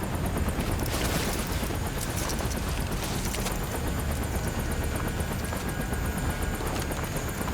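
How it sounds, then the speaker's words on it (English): Little Bird helicopter in the Modern Warfare 2 game, its rotor beating in a fast, steady chop with a continuous loud engine roar throughout, heard from close inside or beside the aircraft. "They load Soap onto the chopper and quickly evacuate"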